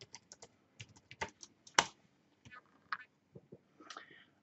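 Keys tapped on a computer keyboard while entering a website password, a quiet irregular run of clicks with one sharper stroke near the middle, no voice.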